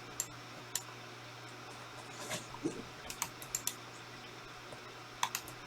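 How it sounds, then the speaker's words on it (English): Computer keyboard keys and a mouse click in short, scattered taps, quiet and close, with brief bursts of typing over a faint steady hum. "holding shift and left clicking,"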